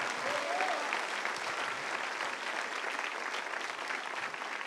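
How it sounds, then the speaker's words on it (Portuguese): Church congregation applauding steadily and loudly for the full length, a dense wash of clapping with a brief voice in the first second. "Se vai aplaudir, aplauda forte"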